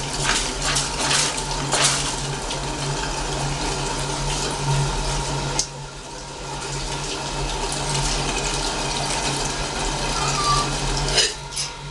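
Water runs steadily through the condenser coil of an alembic still distilling bay laurel, a continuous close rushing flow with occasional clinks, heard alone.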